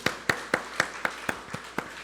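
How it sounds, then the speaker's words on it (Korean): Eight sharp, evenly spaced claps ring out in a steady rhythm inside a church during a spring revival service, close and fairly loud with no voices over them. "박수를 쳐니까 나오네"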